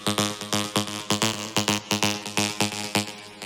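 Bright arpeggiated synth line, bit-crushed with Decimort for extra grit and high-end sizzle, pulses in quick, even repeating notes with a buzzy, harsh top, loud and unaccompanied.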